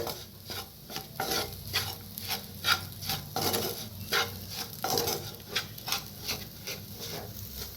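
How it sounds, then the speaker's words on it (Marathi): A spice mix of red chili powder, asafoetida and sugar is roasted in oil in a pan, with rhythmic, repeated scraping stirs over a faint sizzle at close range. "लाल तिखट थोडस हिंग एक चमचाभर साखर मिक्स करून भाजून घेऊया"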